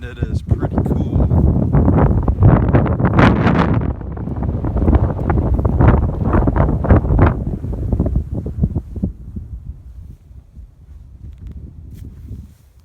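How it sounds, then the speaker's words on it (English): Strong, gusty wind buffets the microphone on a mountain stretch of the Appalachian Trail near Roan Mountain, Tennessee, roaring in loud bursts under a man's speech before easing off. "I know you probably can't hear me with the wind"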